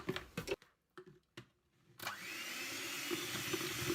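Liquid cream is whipped with sugar for ice cream: a few short bursts from an electric mixer start and stop, then the mixer runs steadily with a continuous whirring motor hum, close and fairly quiet, with no speech.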